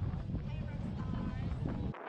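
Gusty wind roars steadily over a lake during a sailing regatta, a dense low rumble of buffeting air that cuts off abruptly near the end.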